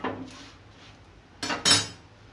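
A metal spoon scrapes and clinks against a hot griddle while spreading ghee over a besan paratha, with a few soft scrapes followed by two louder, close clinking strokes near the end.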